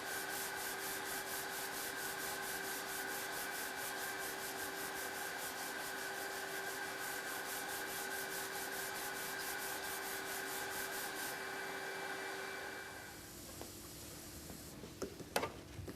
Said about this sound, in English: The damaged area is now sanded with P180 sheets to refine the finish.